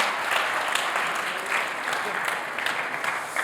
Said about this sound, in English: That's a lot of claps.